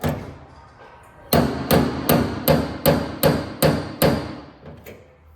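A steady series of eight loud metallic hammer blows pulling a dent from the body metal of a 1972 Chevrolet Impala, evenly paced about every half second, after a quiet start.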